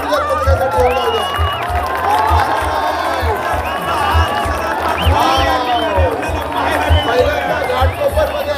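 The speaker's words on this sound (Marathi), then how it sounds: "एकदा जोरात टाळ्या गुरुदत्त पथकासाठी होऊ द्या" A lively crowd cheers and shouts at a Dahi Handi event in Ghatkopar for the Gurudatta Krida Mandal human-pyramid team, with a steady thumping drum beat underneath and loud voices rising and falling throughout.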